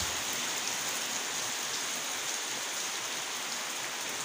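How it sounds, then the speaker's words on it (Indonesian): Steady rain falling near a fish pond, a dense even hiss of drops on surfaces and water that holds constant throughout, with no voices heard. "Wow, hujan di sini nih teman-teman."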